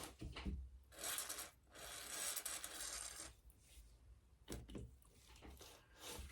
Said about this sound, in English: I just noticed that I've got a little bit of grime that I can get out with a Q-tip